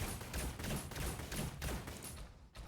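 Rapid bursts of mecha gunfire from the Super Mecha Champions video game, a steady run of loud repeated shots and weapon noise filling the clip, then a brief dip near the end.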